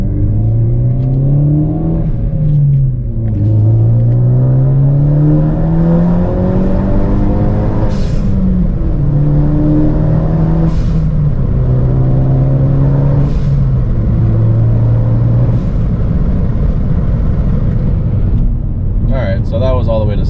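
A Ford Focus ST pulls hard through the gears up to sixth, each loud engine sweep rising in pitch and then dropping at a shift, repeated across the run, with a steady road roar underneath.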